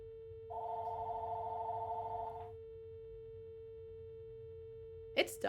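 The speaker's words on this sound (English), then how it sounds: "the phone's ringing" A telephone rings once in a quiet room during a livestream, a single steady electronic ring lasting about two seconds over a constant low hum, followed by a brief sharp sound near the end.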